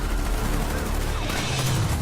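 Gunfire sound effect from a show intro, a dense burst of rapid shots and booms layered with crashing noise, loud and continuous throughout.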